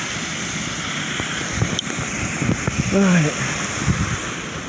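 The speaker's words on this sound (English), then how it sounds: "It's the waterfall." A waterfall on a slippery, moss-covered path, a constant broad rushing roar of water with wind buffeting the microphone, while a person speaks briefly over it.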